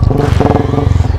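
Motorbike riding off-road on a trail near Maithon Dam: a close, loud engine with a rapid pulsing throb runs throughout this short moment.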